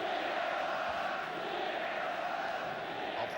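Spectators at the 1975 FA Cup Final between West Ham United and Fulham make a steady, distant roar, a dense, even wash of crowd noise with no single voice standing out.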